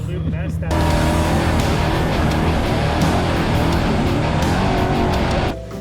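A loud, throaty trophy truck engine roars and revs continuously up close, with rough mechanical rumble and a few sharper bursts, cutting off near the end.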